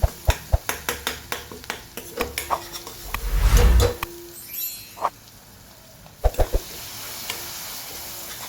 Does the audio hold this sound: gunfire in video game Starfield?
no